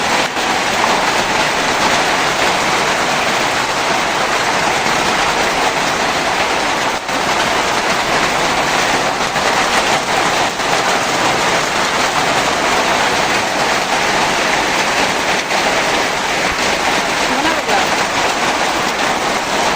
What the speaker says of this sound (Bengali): চড়মড় করে বৃষ্টি পড়ছে। দারুণ একটা শব্দ আসছে